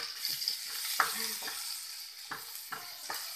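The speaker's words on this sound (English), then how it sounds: "Garlic, onion, and then just make it golden brown for a while" Garlic and onion sauté in a pan until golden brown, giving a faint steady sizzle broken by a few spatula scrapes and stirs.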